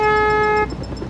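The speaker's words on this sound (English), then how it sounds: "I'm not honking for nothing." A car horn in the Mercenaries video game sounds one steady blast, loud and close, lasting just over half a second before a rumbling engine background takes over.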